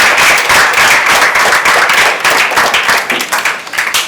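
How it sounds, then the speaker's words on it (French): An audience applauding on a French television programme, loud dense clapping that carries on steadily and starts to thin out toward the end. "On va applaudir."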